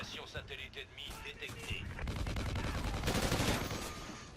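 Submachine gun bursts in Call of Duty Ghosts multiplayer rattle in rapid strings alongside other game effects, growing denser and louder in the second half, with people talking over the action.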